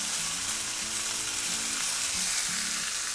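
Chicken breast fries in butter in a pan, giving a constant, even sizzle with a crackling texture and no one talking.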